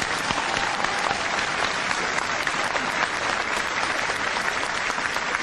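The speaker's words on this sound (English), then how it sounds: "Give our pumpkin carvers a big round of applause." An audience at a live pumpkin-carving event applauds the carvers, with steady, dense clapping filling the whole stretch without pause.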